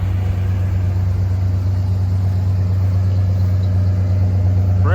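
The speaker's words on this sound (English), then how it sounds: "Brand new engine, man." Brand new engine in a vehicle with a slight pulley squeak, running steadily at idle as a loud, close, even low hum and rumble for several seconds.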